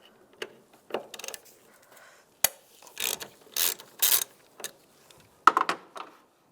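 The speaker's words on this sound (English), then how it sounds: "Now we're going to take this bolt out right here." A 5mm hex socket on a ratchet loosens a bolt during timing belt work on a 1999-2005 Volkswagen Jetta, giving several short bursts of close ratchet clicking separated by brief pauses.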